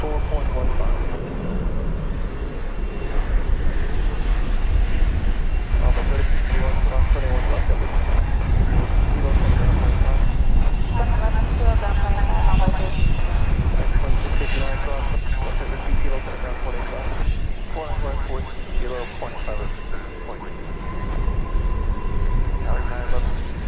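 A passenger airplane arriving from Palm Beach lands at DFW Airport, its engine roar steady and loud throughout, while people talk over it.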